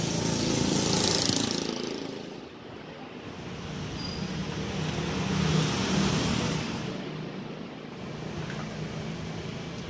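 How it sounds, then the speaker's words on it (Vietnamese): An Iseki 527 tractor with a four-cylinder Isuzu engine runs continuously at idle. It gives a steady, rough, broadband drone that swells and eases slightly over ten seconds, close and loud, with no talking. "Dòng 527 này là 4 máy anh em nha, động cơ Isuzu đó."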